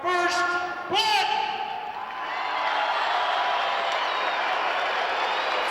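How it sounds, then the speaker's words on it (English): A large crowd at a monster truck event cheers and applauds continuously after a loud horn blast, a steady roar of clapping and voices filling the space. "First Blood, not drawing the applause he'd like to"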